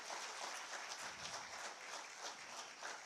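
Applause at an official government ceremony marking a ceremonial lamp lighting, a faint, steady patter of many hands clapping together in a large hall, distant and low in level.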